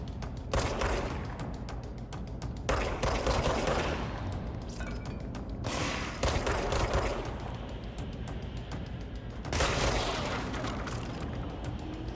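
Weapons fire in the shooter game Control comes in repeated loud bursts of rapid shots, broken by short pauses, with booming impacts and mechanical clatter between volleys.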